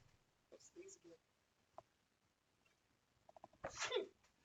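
A person who is sick sneezes loudly near the microphone toward the end, preceded by a few soft breathy vocal sounds and faint clicks in an otherwise quiet indoor setting.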